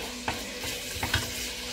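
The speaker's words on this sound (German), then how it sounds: "Die Tomaten zerkochen, so also Speck nur kurz anbraten." Bacon frying briefly in a pan for soljanka, with a steady soft sizzle and a few scraping stirs close by, no talking.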